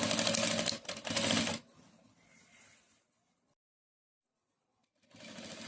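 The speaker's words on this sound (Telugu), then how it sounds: "ఇలా కార్నర్కి ఒక కుట్టు మొత్తం వేసుకోవాలి" A sewing machine stitches across the corner of a blouse back neck piece. It runs in a loud, rapid burst, pauses into quiet, then starts up again near the end.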